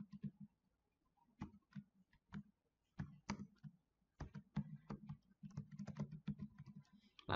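Quiet, close typing on a computer keyboard, with irregular bursts of key clicks separated by short pauses and no voices.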